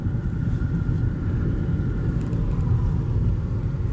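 Car traffic on a town road, a continuous low rumble of engines and tyres close by, steady and moderately loud, with no voices.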